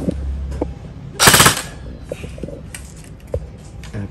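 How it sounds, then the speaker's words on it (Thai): A CYMA Thompson M1A1 airsoft gun with a metal body and wood-pattern plastic furniture fires a short full-auto burst, a rapid loud mechanical rattle lasting under half a second amid quieter clicks and handling noise. "เดี๋ยวยิงเป็นฟูลออโต้เลย"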